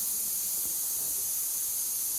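A pressure cooker with lotus stem inside lets out a steady, high-pitched steam hiss, constant and fairly faint, with no voices.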